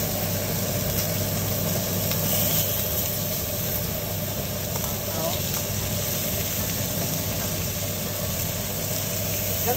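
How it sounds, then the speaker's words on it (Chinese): Thick-cut slices of precooked beef tongue pan-frying in hot oil in a wok, a steady soft sizzle and hiss heard continuously with some low background hum. "攞啲油落只鍋度燒熱佢，就煎一煎"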